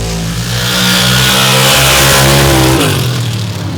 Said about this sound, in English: 1993 Ford F-150 going side by side with a John Conkle horsepower S10